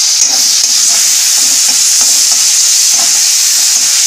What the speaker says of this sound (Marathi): हे जरा भाजून द्यायचं 2 मिनिट चांगलं, सगळं परतून घ्यायचं चांगलं.